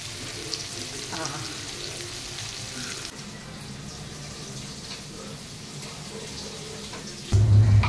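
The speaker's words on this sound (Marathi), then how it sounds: "इकडे पापलेट फ्राय चालू आहेत" Pomfret fish frying in a pan, a steady close hiss and sizzle of oil that continues throughout, with a louder clatter near the end.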